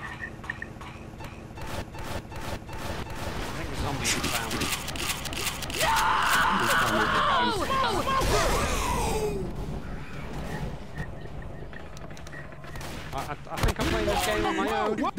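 Gunfire crackles through a Left 4 Dead 2 session, with scattered shots and a noisy burst of effects mid-clip under game sounds, while players talk over it.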